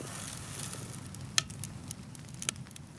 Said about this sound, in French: Le feu est allumé, fort et stable.